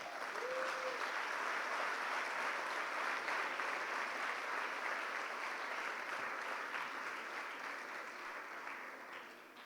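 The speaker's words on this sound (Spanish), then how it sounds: "Dale un aplauso al Señor." A church congregation claps together during a convention workshop, the applause full and continuous at first, then thinning and fading slightly toward the end.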